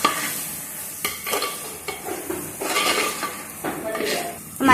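Turmeric and chilli powder are stirred into chicken curry in a clay pot, a spoon scraping and clinking against the pot under a steady sizzle, with close, rhythmic strokes throughout.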